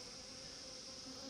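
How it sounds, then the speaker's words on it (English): Honeybees hum steadily around drone comb frames from an open brood box in an apiary, a continuous close buzz with no pauses and no voices. "All of these bees are a bit touchy today"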